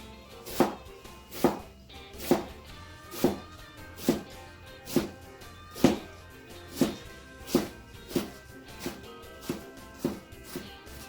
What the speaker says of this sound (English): If I slice it again, then it should shred about the way I want it to.